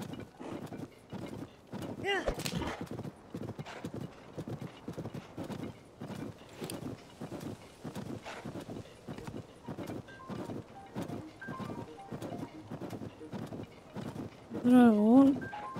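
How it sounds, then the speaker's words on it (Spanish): Horse hooves clip-clop in a steady, quick rhythm as a horse is ridden in The Legend of Zelda: Tears of the Kingdom, with a short whinny near the end and faint background game sounds. "caballo"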